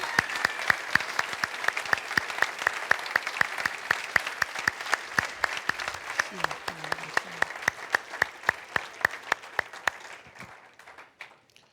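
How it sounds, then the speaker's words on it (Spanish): Sustained church congregation applause, steady rapid clapping from many hands at moderate loudness, fading out near the end with a brief low voice partway through. "Un aplauso al Señor, Él se lo merece."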